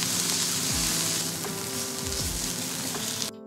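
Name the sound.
garlic and leek sizzling in toasted sesame oil in a pan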